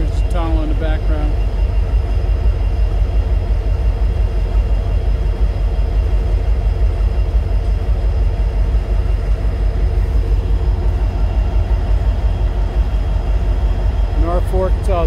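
A Norfolk Southern train rumbles past near the Hoosac Tunnel on the old Pan Am line, a loud steady low drone with a continuous roar throughout, and a brief rising tonal whine near the start and end.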